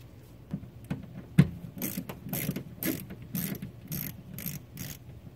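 A hand tool with a T25 star bit working screws out of a Tesla Model S during a louver actuator replacement, producing close, faint ratcheting clicks and scrapes in irregular bursts, with no speech.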